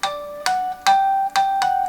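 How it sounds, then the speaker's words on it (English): Ringing guitar harmonics in a song, four or five bright plucked notes struck about every half second, each sustaining a clear tone that keeps ringing until the next, played alone and fairly loud. "it creates a harmonic sound, where even when you lift up, it keeps ringing out"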